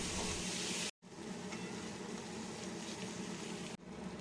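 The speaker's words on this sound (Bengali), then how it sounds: "আমরা ভালো করে কষাতে থাকব যাতে মশলা থেকে তেল ছাড়ে" Spice paste for a cabbage curry fries in hot oil with a soft, steady sizzle and hiss, broken by two short moments of silence, faint and continuous with no talking.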